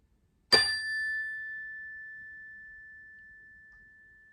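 One strike of a meditation chime sounds a bright metallic ding, then a long, steady ringing tone that fades gradually into silence, with nothing else audible.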